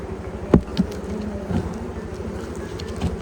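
Honeybees drone steadily around an open hive, with a few louder buzzes as individual bees pass close by.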